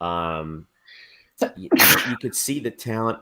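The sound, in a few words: sneeze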